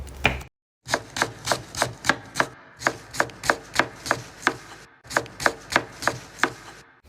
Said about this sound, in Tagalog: Hindi matatawag na dinakdakan kung walang sibuyas at siling berde. Kaya ito, i-chop na natin.